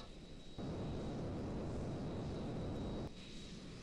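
Simulated F-14 jet approaching a carrier deck in Armed Assault 2, a steady broadband engine roar that swells louder for a few seconds mid-clip with a thin high whine running throughout, no talk.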